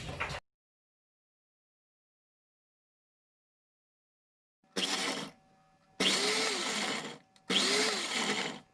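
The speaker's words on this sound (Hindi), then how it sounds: "ड्राई फ्रूट जो हम लोगों ने रोस्ट किए थे, इसे मैंने इतना जो है मोटा सा ब्लेंड कर लिया है" An electric blender coarsely grinds roasted dry fruits in three short whirring bursts after a brief blip and a long silence, loud and close, with no voices.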